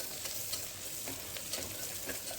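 Green chillies and ginger garlic paste fry in a pan for ghee rice: a quiet, even hiss of sizzling oil with faint stirring bumps, no talking.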